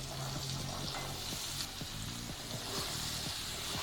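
Cut potato and cauliflower frying in a pan for a mixed vegetable labra, a dense steady sizzle with soft intermittent stirring scrapes, close and fairly quiet, no talking.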